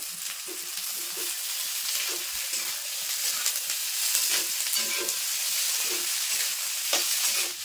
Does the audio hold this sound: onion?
yes